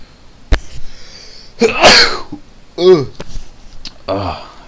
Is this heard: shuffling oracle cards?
no